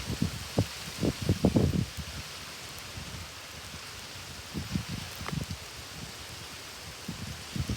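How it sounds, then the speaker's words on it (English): Wind-driven rain sweeps across a road during a derecho with gusts topping 100 mph, heard as a steady hiss with a few gusty bursts near the start and more midway, no voices. "So rain is flying across the road as it comes in."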